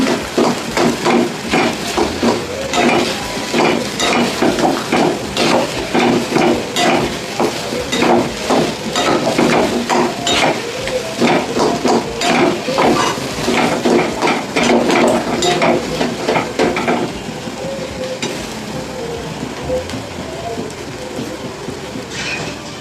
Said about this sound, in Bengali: এটাকে আমি পুরো একবারে ভাজা ভাজা করে একবারে শুকিয়ে নেব